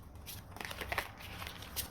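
A cat-themed tarot card deck being shuffled by hand gives soft, close papery rustles and light crinkling flicks, quiet and steady for a couple of seconds with no voices.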